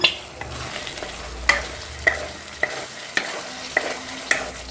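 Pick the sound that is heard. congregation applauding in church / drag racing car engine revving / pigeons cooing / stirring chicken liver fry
stirring chicken liver fry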